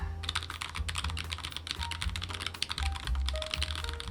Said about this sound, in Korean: 이제 한번 게이트론 쭉 타건해 보시죠.